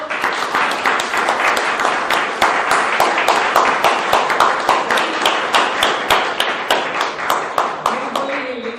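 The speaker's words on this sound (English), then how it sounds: "let's give him a round of applause" An audience at a Toastmasters-style club meeting claps steadily for the meeting leader, a brisk, even round of many hands lasting nearly nine seconds, close and fairly loud.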